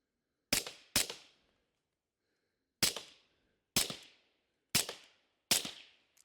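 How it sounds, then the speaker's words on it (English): Six sharp suppressed rifle shots fired at a dead tree outdoors, each a crisp crack with a short decaying tail: two quick shots, a pause, then four more spaced about a second apart, alone with no talking. "just so you can hear how quiet the suppressor is alone"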